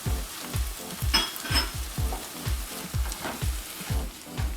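Vegetables for pav bhaji frying in melted butter with red paprika, a steady close sizzle with rhythmic stirring scrapes of a utensil against the pan, about nine strokes, no talking.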